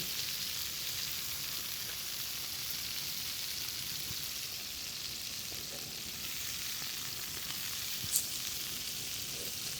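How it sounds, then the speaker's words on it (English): Hamburger steaks searing in a pan give off a steady, soft, close sizzle with fine crackling throughout and one brief tick near the end, with no talk. "when I'm searing those burgers up"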